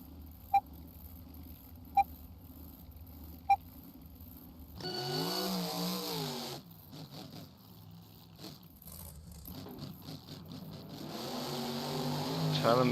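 Monster trucks race at a Beam Jam championship round in Daytona, Florida. Engines roar and rev loudly at the start, then drone on in waves. Three sharp ticking beeps come before the launch, and a voice talks over the engine noise.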